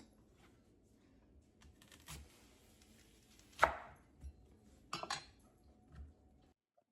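A knife chops an onion on a cutting board in sparse, irregular strokes, with a few sharper knocks among quieter cuts in a quiet kitchen.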